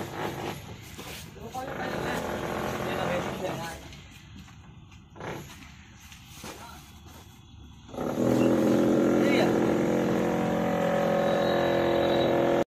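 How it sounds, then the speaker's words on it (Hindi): Motorbike ridden on a road, its engine noise and wind rising loud and steady in the second half after a stretch of mixed street sounds and talk; people speak over it. "अभी बाइक चला रहे हैं।"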